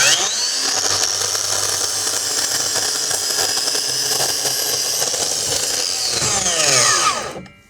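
A miter saw cuts a compound miter through a PVC capstock deck board, a loud steady whine lasting about seven seconds before the blade spins down at the end, with no talking.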